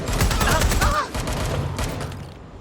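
Bursts of gunfire ring out in the video game Watch Dogs Legion, a rapid volley of sharp close shots that crackle for about a second before thinning out into scattered reports and a fading tail, with a voice speaking underneath.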